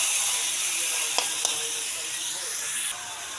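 Meat sizzling in a hot pot for Filipino menudo, a steady bright hiss with a couple of sharp clicks from stirring, loud and continuous before easing slightly near the end.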